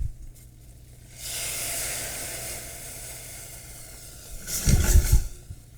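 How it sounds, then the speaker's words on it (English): White wine reduces in a hot pan for lobster thermidor sauce with a soft steady hiss that swells partway through, then a louder, rougher bubbling sizzle near the end. "Now we're gonna let that wine reduce by half."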